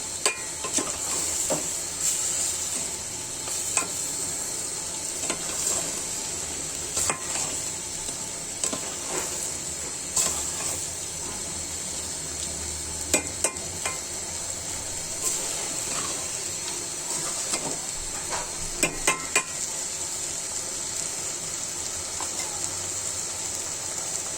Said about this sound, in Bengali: দেখুন আমার মাংসটা ভাজা হয়ে গিয়েছে